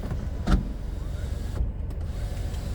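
A car's electric sunroof opens, with a whirring motor heard close inside the cabin over a steady road and engine rumble. A couple of soft clunks mark the movement, and nobody speaks.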